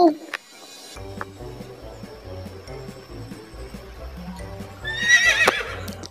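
A horse whinnies, a high wavering neigh that rises and falls, with a few soft thuds and a short bright burst near the end.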